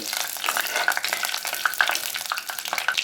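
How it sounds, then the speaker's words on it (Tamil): Fennel seeds spluttering and crackling in hot oil for a chicken kulambu tempering: dense, steady popping and sizzling close up, with brief sharper pops scattered throughout and no voices. "இப்போ சோம்பு நல்லா பொரிஞ்சிருச்சு"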